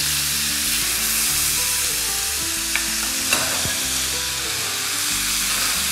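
Beef for lomo saltado sizzles steadily in hot oil in a pan, a close, continuous frying hiss with a couple of faint clinks of stirring.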